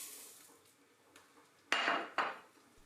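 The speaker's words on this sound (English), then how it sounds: "Add the rice all at once." Risotto rice is tipped all at once into a pan of hot olive oil over low heat, giving two quick, bright rushing bursts after a faint, quiet lead-in.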